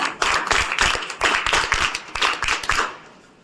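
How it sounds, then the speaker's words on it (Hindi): Schoolchildren and guests clap together in a welcome at an Urdu school in Amravati, a brisk, rhythmic group clapping that stays loud and steady for about three seconds before trailing off. "जोरदार तालियों के साथ स्वागत"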